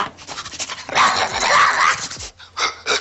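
A man imitates a dog barking over a telephone line, giving a run of yappy, panting bursts and one longer growl-like stretch, loud and close, with a brief pause before the last few yips.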